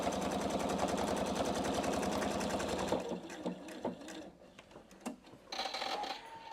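A Pfaff Expression 720 sewing machine stitches a side seam on fabric, starting with a fast, steady mechanical chatter. After it stops, scattered clicks and handling noises follow.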